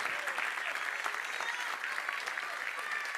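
A church congregation claps steadily and strongly, a dense wash of applause that fills the whole moment without pause.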